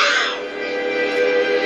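A person voices a drawn-out, raspy cat-like yowl, a single loud nasal cry lasting under two seconds that imitates a cat.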